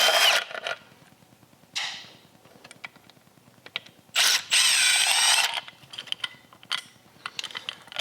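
Screws come out of a Harley M8 clutch outer cover: bursts of a power driver whirring alternate with dense ratchet clicking, close and loud, with short pauses between turns and no speech.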